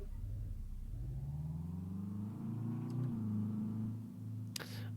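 Car engine in a Euro Truck Simulator 2 mod, a steady mid-pitched hum that rises as the car accelerates, smooth and continuous, then a brief sharp noise near the end.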